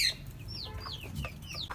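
Chickens and roosters cluck and call near a warm fire on a hot day, several overlapping bird calls rising and falling steadily above a low background rumble throughout.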